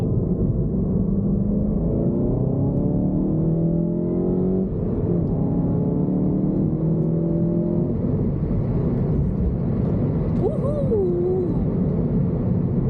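A Volkswagen Golf 7 GTI accelerates hard up a highway on-ramp, its engine climbing through rising rev sweeps with a gear change midway, heard from inside the cabin as a loud, continuous drone.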